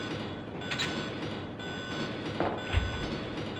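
Train emergency alarm in the video game Resident Evil 2, a steady repeating electronic tone over a low mechanical rumble, moderately loud, with no talking.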